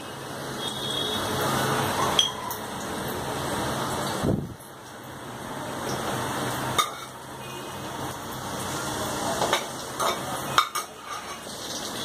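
Cumin seeds crackle and sizzle in a tablespoon of hot ghee inside a pressure cooker, a steady close frying hiss with a few sharp metallic clinks and stirring scrapes, no talking.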